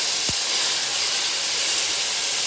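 Mutton biryani sizzles loudly in a covered pot as the lid is lifted, a steady broadband hiss of steam and frying filling the whole moment, with a brief low clunk near the start from the lid.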